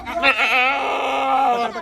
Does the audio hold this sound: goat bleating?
yes